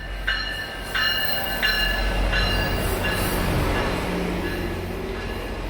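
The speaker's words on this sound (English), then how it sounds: "Here comes the train." A passenger train pulls through on a trip toward Toronto, a loud steady rumble of rolling cars with a few short, bright, evenly spaced ringing tones near the start. No voices are heard.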